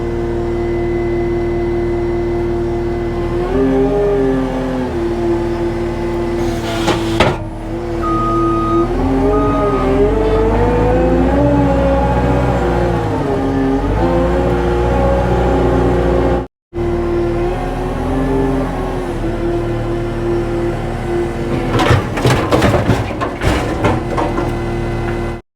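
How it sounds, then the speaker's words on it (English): A skid steer with a claw attachment works around an old farm loading scrap iron onto a trailer, its diesel engine droning loud and close with rising and falling revs, a brief cutout, and clanking metal near the end. "Just running around with the skid steer with the claw, loading up all this iron that's left in these trees."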